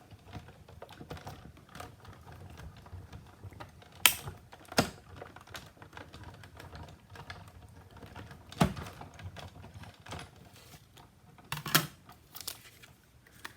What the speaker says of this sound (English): I need to just cut that out first.